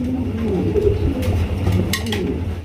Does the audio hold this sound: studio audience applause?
no